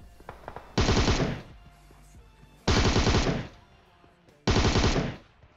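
PUBG Mobile gunfire from a bot, in three loud, separate automatic bursts of rapid shots, each lasting about a second, with short quiet gaps between them and no speech.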